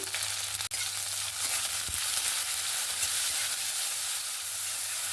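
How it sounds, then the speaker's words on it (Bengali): Onion, tomato and green chili fry in a pan with a steady, close hiss, cut by one brief clatter near the start and a soft knock a little later, with no voices. "পেঁয়াজ, টমেটো, কাঁচা লঙ্কা ভালোভাবে ভাজা হয়ে গেছে"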